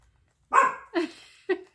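A dog barks three times in quick succession, loud and close, with short pauses between the sharp barks.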